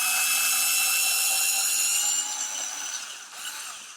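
A GoGonova cordless screwdriver backs a screw out of wood, its motor giving a steady high whine that softens and wavers toward the end as the screw loosens.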